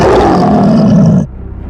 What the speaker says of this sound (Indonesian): Ini adalah monster tingkat 5, harimau sayap perak.